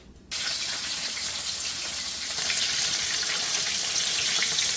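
Green tomato slices dipped in batter sizzle and crackle in hot vegetable oil, a steady broadband hiss that starts abruptly and holds at even loudness throughout.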